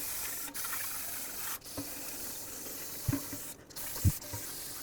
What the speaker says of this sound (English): use some parts cleaner, clean off the brake dust that's here so I don't breathe it in